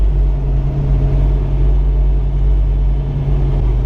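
An LT1 V8-powered Jeep JK with an 8-speed transmission drives along, a loud, steady low engine drone and road rumble heard from inside, with a constant hum and no talk.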